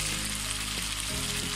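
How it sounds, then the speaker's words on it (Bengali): Tomatoes stir-fried with boal fish and thinly sliced potatoes for a thick curry, giving a steady, close sizzle and crackle of oil throughout, with no talking. "আমি টমেটো দিয়ে আর একটু কষে নিচ্ছি।"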